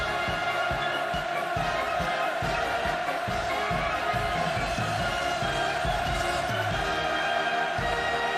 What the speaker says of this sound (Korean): 탁월한 인민의 용도자를 우러러 열광의 환호를 터쳐 올렸습니다